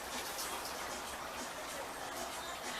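Canned coconut milk pours into a cooking pot with a steady, soft liquid splashing and trickling wash that runs continuously without pause, fairly faint.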